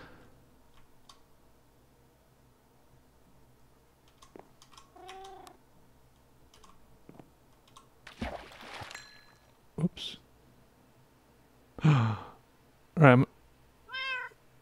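A small cat meows several times while sitting in a boat in the PeterCraft Survival video game. The meows come as short, clear calls, the loudest near the end, with a brief spoken word and faint background game sounds.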